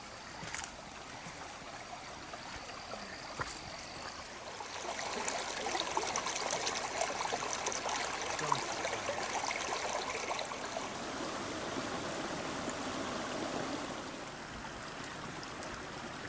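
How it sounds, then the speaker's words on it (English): Water flows steadily through a creek bed in Oklahoma's Ouachita National Forest, a continuous close trickling and babbling that swells a little in the middle, with no voices. "Out here exploring a creek bed."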